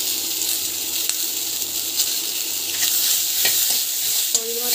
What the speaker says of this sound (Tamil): நல்லா வதக்கி வச்சுக்கோங்க